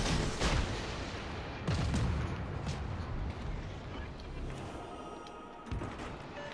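Naval gunfire in the World of Warships: Legends video game, heavy booming salvos rolling one after another over a dense, continuous battle rumble, loud and close with no pauses.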